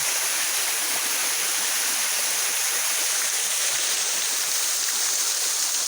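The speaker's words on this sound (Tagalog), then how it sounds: "ito yung first floor ng Anahaw Falls" Steady, hissing rush of falling water at Anahaw Falls, a constant broadband roar heard up close with no pauses or voices, the flow low after weeks without rain.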